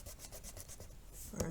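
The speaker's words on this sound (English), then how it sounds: "So I'm just going to erase the X's" An eraser rubbing out pencil marks on a grade 4 math worksheet: quick, quiet, rhythmic back-and-forth scrubbing strokes, close up, ending with a small tap.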